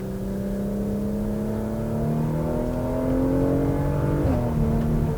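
A 2021 Porsche Macan Turbo, 434 hp, pulls hard in third gear in manual mode, its engine note climbing steadily from inside the cabin before a sharp shift near the end, with no talk over it.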